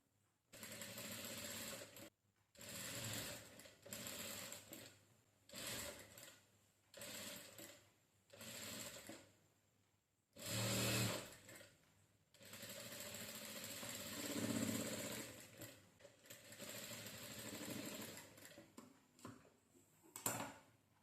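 A sewing machine runs stitches to attach a sleeve to a saree blouse, in repeated close, loud bursts of steady whirring separated by brief pauses, with no talking.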